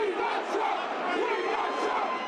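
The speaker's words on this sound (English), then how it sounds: "The crowd of thousands erupted after the announcement." A crowd of thousands at a postponed political rally erupts in loud, sustained cheering and shouting, a dense wall of voices that continues without a break for a couple of seconds.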